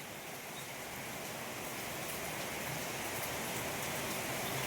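Rain falls outside near a backyard garden, a soft, even, continuous patter that stays faint and unbroken, with no voices over it.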